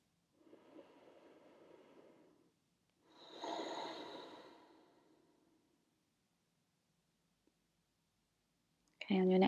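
Slow, deep yoga breaths: one long airy inhale, then a fuller, louder exhale, each lasting a couple of seconds, followed by near silence and a brief sharp noise at the very end.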